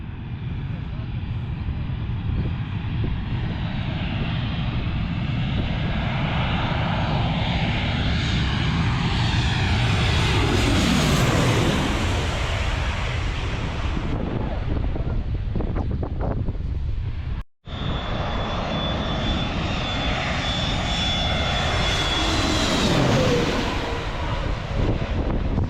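A passenger plane coming in low to land at Skiathos, its engine roar swelling loud and close as it passes overhead amid wind buffeting, with people talking nearby.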